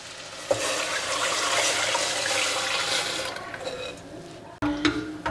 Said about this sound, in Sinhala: අපි කලින් හදාගත්ත චිකන් බ්‍රොත් එක මේකට එකතු කරමු